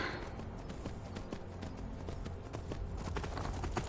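A horse's hooves clip-clop steadily in Skyrim, a fast rhythmic patter set within a dense, constant wash of game ambience.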